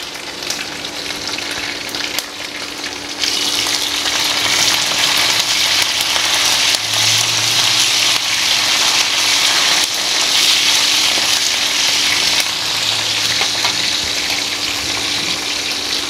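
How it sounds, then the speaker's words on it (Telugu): Curry leaves torn into small pieces crackle and fry in hot oil in a pan, a steady close sizzle that jumps louder after a few seconds and carries on unbroken throughout. "ఇప్పుడు దీంట్లోనే కరేపాకు ఒక 2 రెబ్బలు చిన్న చిన్న ముక్కలుగా తుంచి వేసుకోండి"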